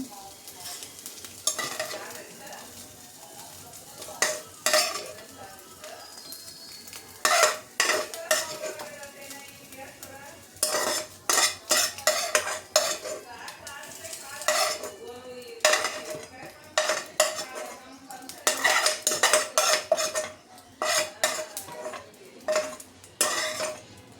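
Egg fried rice stirred and fried in a home kitchen pan, with a steady sizzle under repeated scraping and clattering of a spatula against the metal, coming in bursts that grow busier toward the end, loud and close.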